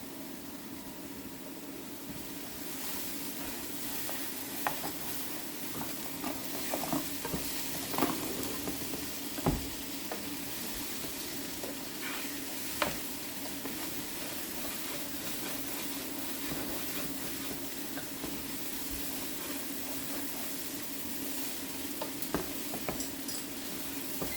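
Minced garlic sizzles steadily in a pan with well-cooked broccoli, a continuous frying hiss with occasional scrapes and taps of the stirring utensil throughout.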